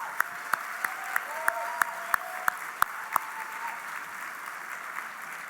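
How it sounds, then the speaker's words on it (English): A round of applause at an awards gala comes through as a few distinct, evenly spaced claps, fairly quiet and distant, fading into a low room hum. "Let's give her a round of applause."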